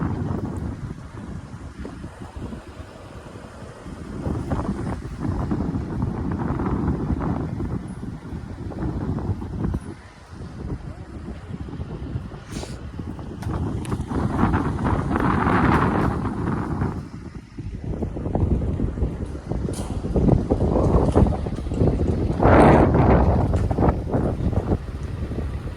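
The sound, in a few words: strong wind blowing into microphone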